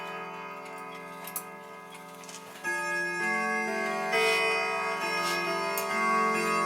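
Westminster chime from a Howard Miller grandfather clock marking the half hour, a sequence of clear, resonant bell notes struck one after another and left ringing, close and loud with no talk.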